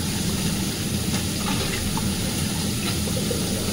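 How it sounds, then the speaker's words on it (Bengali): Elephant foot yam boiling in a pot of water with salt and turmeric, a steady close bubbling and hissing wash that continues without a break. "ওলটা সেদ্ধ করছি, নুন আর হলুদ দিয়ে সেদ্ধ দিয়ে দিই।"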